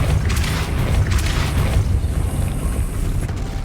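Casting the Depulso spell in Hogwarts Legacy sets off a deep booming blast with a rumbling, mechanical rush behind it that fades into a lower, steadier hum.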